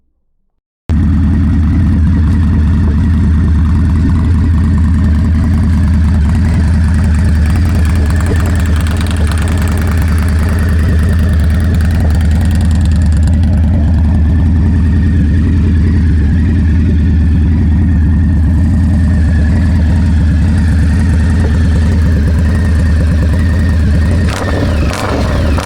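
An Indian Scout Bobber fitted with a Freedom Performance 2-into-1 exhaust starts up and idles loudly up close, a deep, steady rumbling lope that runs on evenly for the rest of the stretch, with no talking over it.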